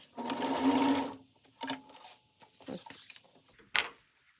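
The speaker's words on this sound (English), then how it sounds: "I'm gonna open it up and I'm gonna top stitch along here" A sewing machine top-stitches a fabric crossbody bag in a short close burst, followed by faint handling clicks and a few quick stitches.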